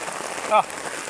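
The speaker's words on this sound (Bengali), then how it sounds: "কি পরিমাণ বৃষ্টি পড়তে আছে এর মধ্যে" Steady heavy rain patters on a surface throughout, with a brief tonal squeak or chirp cutting through midway.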